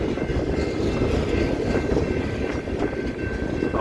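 A freight train carrying coiled steel cars rolls past with a steady, loud, continuous rumble and rattle of wheels and cars, unbroken and close throughout.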